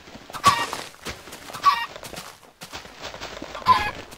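Chickens in the Minecraft game give three short, separate clucking bursts, spaced about a second apart, clear and close with no talking.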